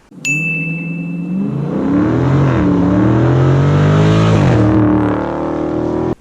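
A 2019 Dodge Charger Scat Pack fitted with a Borla exhaust roars past, its loud V8 building through a long rising pull, then easing as it goes by, with no voices.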